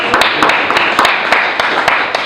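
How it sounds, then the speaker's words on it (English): Audience at an agricultural technology summit in Salinas Valley applauding, loud and close with dense clapping and a few sharp individual claps standing out, no speech over it. "Let's give them a round of applause."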